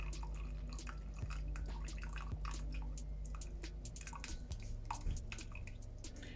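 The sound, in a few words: straining boiled sorrel liquid for Jamaican sorrel fruit cake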